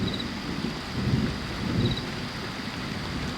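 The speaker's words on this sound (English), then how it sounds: "listening to the rain on the roof, and some thunder" Continuous rain patters on a truck roof overhead while a soft, distant thunder rumble swells briefly and fades.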